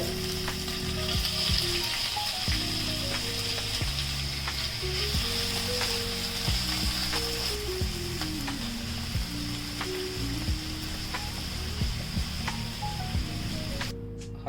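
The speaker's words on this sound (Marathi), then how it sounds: "तेल गरम झाल्यावरती यात आपण मॅरिनेट केलेली कोळंबी हलकीशी फ्राय करून घ्यायची आहे।" Marinated prawns fry in hot oil in a pan, giving a steady, close sizzle that runs throughout, with occasional clinks and stirring sounds layered over the constant frying.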